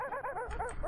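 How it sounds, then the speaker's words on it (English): A playful barking sound effect in the video game Wizkid, a quick run of short, repeated yips, loud and close. "on this level the sound font it uses for the completed stave is barking"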